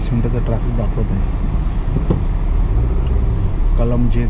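Road traffic rumbles steadily around a car on the road from Mumbai to Khed, a low continuous hum with a brief sharp clatter midway, while people talk over it.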